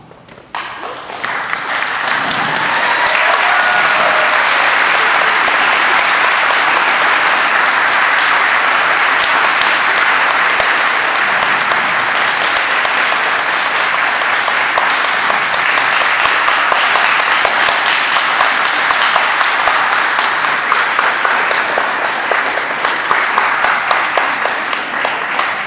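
Sustained audience applause at a school graduation ceremony, a loud, dense crowd clapping that swells within the first seconds and carries on steadily for over twenty seconds.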